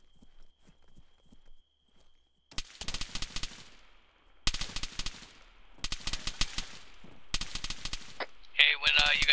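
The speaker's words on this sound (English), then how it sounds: "I think we're still taking fire." Gunfire in the Arma 3 military game comes as several bursts of rapid shots, loud and close, separated by short pauses. Quieter distant pops sound between the bursts, and a sharper electronic crackle follows at the end.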